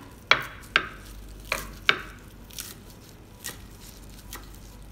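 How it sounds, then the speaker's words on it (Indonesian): A knife chops kemangi (lemon basil) leaves in a few distinct, moderately loud cuts, four crisp strikes followed by softer, fainter taps, with no talk. "Kemanginya ini mau saya potong asal aja."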